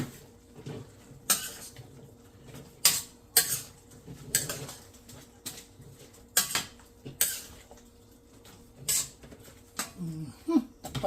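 Sautéed bottle gourd being stirred in a pan, a spoon scraping and clanking against the metal in repeated sharp knocks at an uneven rhythm over a faint sizzle.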